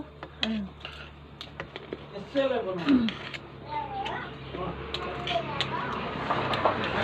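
A cat meows several times, close and clear, with rising and falling cries amid people chatting and light clattering in the background.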